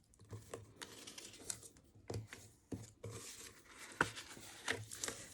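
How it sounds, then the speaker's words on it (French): Paper folds creased with a bone folder on a paper box, a series of dry scraping strokes and soft crinkles in uneven bursts, close and quiet, no talking. "marquer, accentuer donc tous mes plis avec mon plioir en os"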